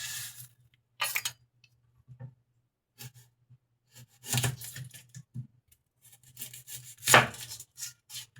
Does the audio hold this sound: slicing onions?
yes